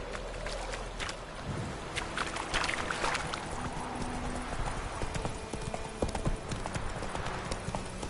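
Horse hooves clip-clopping in The Witcher video game, a brisk rhythmic trot of repeated hoof strikes alongside faint creaks and ambient game sounds, with no talk.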